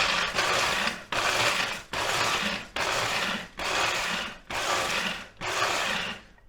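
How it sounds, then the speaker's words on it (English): A blender pulses to chop jalapenos and green chilies in six separate loud whirring bursts of just under a second each. The bursts are evenly spaced by brief gaps, close up, with no talking. "By doing the short pulsing, it lets the veggies kind of move inside there, so you get a better chop."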